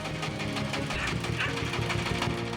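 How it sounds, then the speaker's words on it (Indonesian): A large single-cylinder diesel engine on a farm vehicle, a locally built cassava-hauling truck with 4x4 transmission, runs with a steady rapid knocking thump that stays loud and close, with a faint voice underneath. "Bagian mesin menggunakan mesin diesel silinder tunggal namun bervolume besar."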